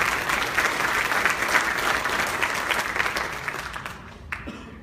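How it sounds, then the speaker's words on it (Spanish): Loud, sustained applause from a crowd at a public-sector project management awards ceremony, steady clapping that fills the whole stretch before tapering slightly at the end. "Un aplauso, por favor, para esta unidad."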